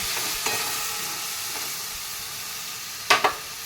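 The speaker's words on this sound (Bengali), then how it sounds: "এবার আমি এটা ভালো করে কষিয়ে নিই।" Ground coriander, cumin, turmeric and Kashmiri red chili powder sauté in a pan with a low, steady sizzle, broken by a few short stirring scrapes, with two sharper clacks near the end.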